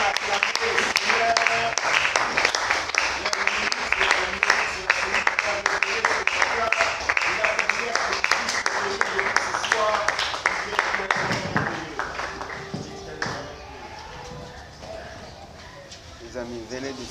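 A church crowd at a Maranatha youth gathering applauds and cheers loudly for the Lord, with dense sustained clapping that thins out near the end, alongside voices.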